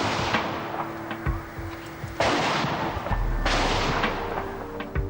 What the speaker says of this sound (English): Chief Inspector Clarkson gave the order to open fire.